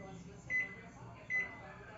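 A microwave oven hums steadily while two short electronic beeps sound about a second apart, fairly faint and close.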